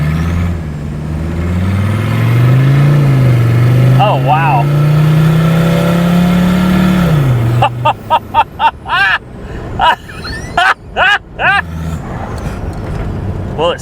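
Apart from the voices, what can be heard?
Mercedes-Benz turbo diesel car driving on the road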